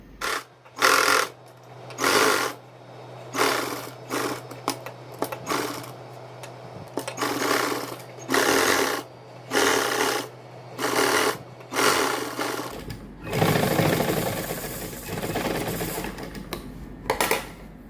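A sewing machine stitches fabric for a V-neck design in a steady series of short, close whirring bursts, ending in a longer stretch of broader, steady noise.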